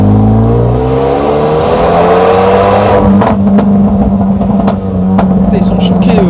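A Renault Megane 3 RS accelerates hard, its engine roaring loudly and rising in pitch as it revs up and shifts. The car is close, and voices talk over it.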